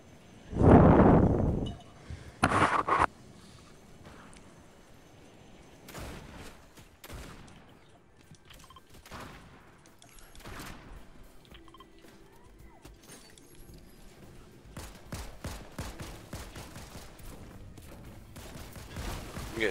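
Gunfire in the Fortnite video game: a loud burst of shots at the start, then a second short burst, followed by scattered quieter shots and game noise over the rest.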